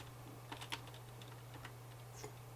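Keys on a computer keyboard are tapped in a sparse, uneven sequence of light clicks over a low steady electrical hum, close by and with no voices.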